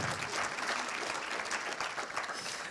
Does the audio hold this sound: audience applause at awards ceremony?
yes